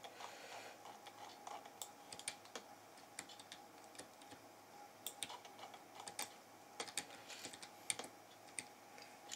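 Computer keyboard keys are pressed while playing Space Engine, a quiet, irregular run of soft clicks and taps that continues steadily with no voices.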